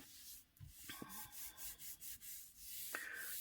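Paper being rubbed by hand onto a gel printing plate, a series of soft, rhythmic scrubbing strokes close up, quiet and alone apart from a couple of faint higher tones.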